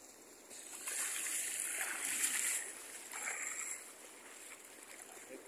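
Calm waves wash gently onto a beach at Playa Las Tunas, a soft rushing swell that rises and fades over several seconds, fairly faint and without voices.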